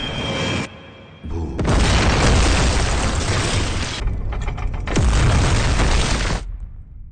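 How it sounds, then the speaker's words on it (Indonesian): A safe being blown open in a film gives heavy booming blasts, loud and dense with deep rumble, in two long bursts separated by a brief dip, then an abrupt cut to quiet. "Saho berhasil meledakkan berangkas yang ada di gedung milik Devaraj"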